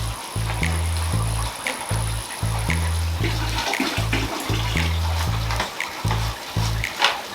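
An aquarium siphon from a 180-gallon tank runs water into a bucket, a steady near splashing gurgle with rhythmic low pulses and some clunks throughout.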